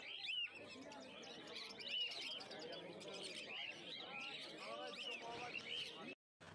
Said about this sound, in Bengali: তো দেখতেই পাচ্ছ অনেক রয়েছে ফিঞ্চ পাখি